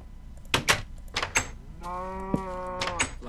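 A Minecraft cow gives one drawn-out, nasal in-game moo, close and clear, surrounded by short blocky thumps and clicks of gameplay.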